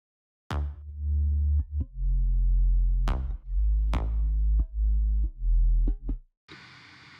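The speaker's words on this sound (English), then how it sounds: "a pluckier bass on the hits on top of this sub bass," Deep sustained sub bass with a brighter plucked bass hitting on top, several sharp attacks spaced irregularly, ending in a brief burst of noise.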